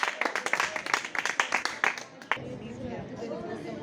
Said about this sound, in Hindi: बच्चों, तालियां जोरदार।